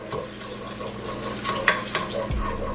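Chicken sauce with onions and garlic, with wine in it, is stirred around a frying pan, with a steady sizzle under scraping stir strokes and a soft clunk near the end, close and continuous.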